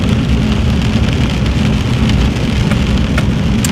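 Steady rain and road noise fill a moving car on a wet Alaska highway, a constant dense wash of drops and tire rumble with no breaks and no voices.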